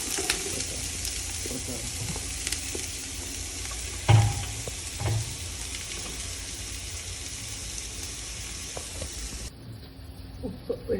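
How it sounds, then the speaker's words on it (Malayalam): Sliced onions sautéing in coconut oil and ghee, giving a steady close sizzle and hiss throughout with occasional stirring knocks, before the frying noise drops near the end. "3 സ്പൂൺ വെളിച്ചെണ്ണ, 1 സ്പൂൺ നെയ്യ്. എന്നിട്ട് നമുക്ക് അരിഞ്ഞ് വെച്ചിരിക്കുന്ന സവാള ഇട്ട്"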